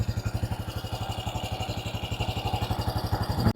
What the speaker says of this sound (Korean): 머플러도 제가 알기로는 이게 순정으로 알고 있는데 한번 머플러 소리 한번 들어볼까요?